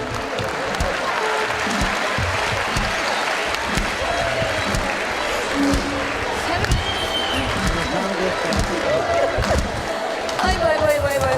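Wedding guests at an Azerbaijani wedding hall applaud as the bride and groom enter, a steady, dense wash of clapping and crowd noise lasting throughout, with voices and music mixed underneath.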